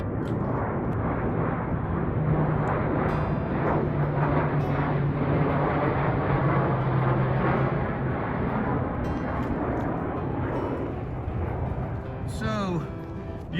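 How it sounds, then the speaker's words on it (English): A twin-engine spotter plane drones steadily overhead outdoors on a hiking trail, its engines humming continuously throughout, with a brief rustle near the end. "You can see that twin-engine spotter plane."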